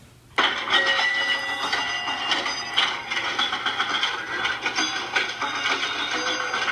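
A pinball machine runs continuously with dense mechanical clatter, ratcheting clicks and rattling. It starts abruptly and stays fairly loud, as if heard from a short distance.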